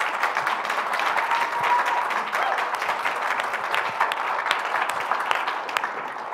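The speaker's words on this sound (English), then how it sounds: "that was not just the students clapping. Everybody in here was clapping." An audience of students and others in a room applauds, a dense, steady wash of many hands clapping at once that holds level throughout.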